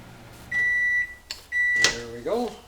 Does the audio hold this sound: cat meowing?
no